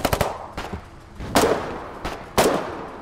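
SMG fire in the video game Foxhole: a quick rattling burst opens the clip, then sharp single and paired shots crack loudly at irregular intervals, each trailing off in a short echo.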